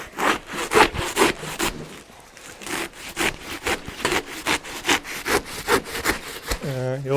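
Old handsaw cutting through wood on a mounting board, a steady run of rhythmic rasping strokes, close and fairly loud, with a brief voice starting at the very end.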